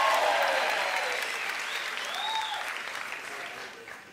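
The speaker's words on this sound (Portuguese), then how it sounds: "Com aplausos espontâneos" Spontaneous studio audience applause opening a Brazilian late-night radio and TV talk show, a dense wash of clapping that starts loud and slowly fades over a few seconds, with faint voices mixed in.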